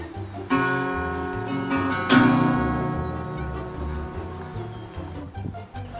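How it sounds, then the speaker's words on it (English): Individual notes plucked on a small acoustic guitar, each ringing out and fading, with a brighter, stronger pluck partway through. "the sound that comes out would be more appropriate for plucking compared to strumming, which Alex's guitar is better for"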